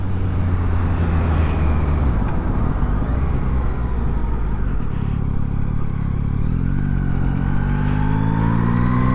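A Yamaha MT-09 SP motorcycle is ridden and accelerates, its engine loud and close with rising revs climbing through gears, plus wind rush and road clatter.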